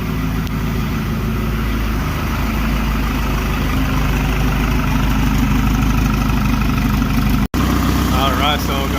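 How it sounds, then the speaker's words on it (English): A Honda Civic engine, a 1992-95 model, idles steadily with a low, constant rumble, briefly cutting out for an instant near the end before resuming, after an oil change. "Goliath's been idling for a while"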